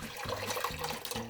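Canned Progresso soup glugs and splashes as it is dumped into a cooking pot, a soft, wet pouring sound in a few uneven surges, moderately quiet, with no talking.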